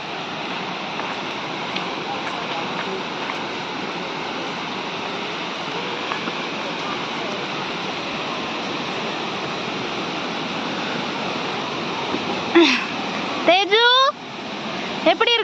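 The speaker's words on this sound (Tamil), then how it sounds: "கோவிலுக்கு கீழே அருவிக்கிட்ட வந்தாச்சு" Below a hilltop temple in Odisha, a waterfall pours with a constant, loud broadband roar close by, and near the end a few voices and brief whistling sounds rise over it.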